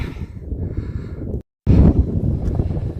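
Wind blowing across an exposed hilltop during a hike, heard as a rough, buffeting rumble on the microphone that cuts out for a moment and then returns stronger.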